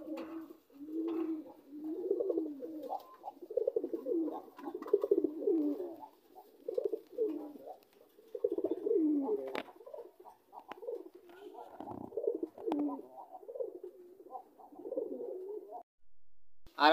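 Homa pigeons coo steadily and close by, with rolling, overlapping low calls that carry on almost without a break.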